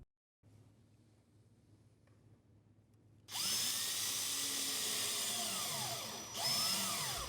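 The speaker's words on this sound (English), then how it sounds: "Use drywall screws and fender washers to attach the tub to the studs as shown." A power drill drives drywall screws with fender washers through a tub flange into wall studs, with a quiet hum giving way to loud, continuous whirring and a brief pause before the motor picks up again.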